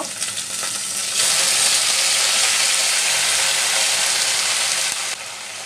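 Jute leaves hit a hot frying pan and set off a sudden loud hiss that holds as a dense, steady sizzle for several seconds before dropping back to a quieter fry, with no voices.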